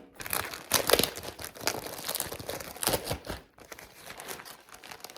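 Plastic packaging around a polyester transformer bag with pull-out wheels being handled, giving loud, irregular crinkling and crunching bursts close up, with a brief pause before the rustling resumes.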